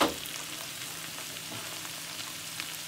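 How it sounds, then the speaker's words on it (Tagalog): Soft, even sizzle of onion and bacon caramelizing in a pan, a faint knock at the start and light crackles scattered through the steady frying hiss, with no talking. "nakaka-caramelize na yung onion at saka yung bacon"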